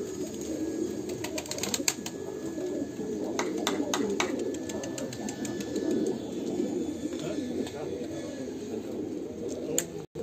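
Male pigeons coo and flutter as their coop is opened, a steady chorus of low cooing with scattered wing flaps and sharp clicks, heard up close throughout.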